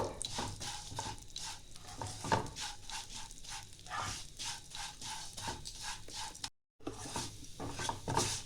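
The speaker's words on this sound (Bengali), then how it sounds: "এবার এই ঘিয়ের মধ্যেই আমি এখানে হাফ বাটিরও বেশি সিমুই দিয়ে দিচ্ছি। সিমুইটাও আমি লাল করে ভেজে নেব।" Vermicelli frying in ghee in a pan over low heat, a steady close sizzle with repeated scraping and clinking of a spoon as it is stirred, with one brief silent gap.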